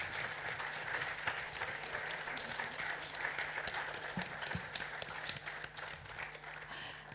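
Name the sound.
audience applause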